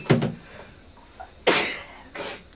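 Sneezing from a dust allergy, two sharp nearby bursts about a second apart, preceded by a short voiced sound.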